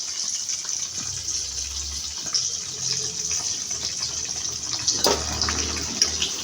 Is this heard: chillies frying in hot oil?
yes